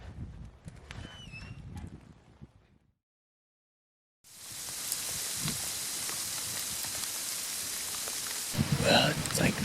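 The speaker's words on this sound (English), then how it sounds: "it's like 37 degrees and raining" Rain patters steadily on a deer stand in cold, near-freezing weather, a dense hiss building after a short quiet gap and growing louder toward the end.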